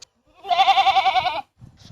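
A goat bleats once in a long, wavering, quavering call lasting about a second, loud and close, followed by faint low rustling.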